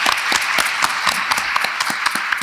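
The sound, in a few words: audience applause for a presentation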